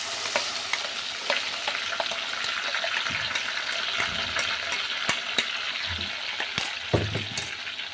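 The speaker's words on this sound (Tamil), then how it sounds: "இப்போ அரைச்சி வச்சுருந்த பேஸ்ட்டை நான் ஆட் பண்ணிக்கிறேன்." Ground masala paste, added with ginger and garlic to a hot pan for prawn gravy, sizzles and frys steadily while a spoon stirs and scrapes in close, irregular clicks, with no talking.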